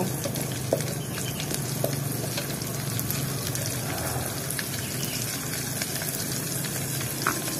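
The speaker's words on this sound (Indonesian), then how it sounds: "Kita masukkan bawang putih, bawang merah, kita oseng atau kita goreng sampai harum." Garlic and shallots fry and get stirred in a pan for an outdoor Lampung Barat cooking session, a steady close crackling sizzle with occasional scrape and tap of a utensil, no talking.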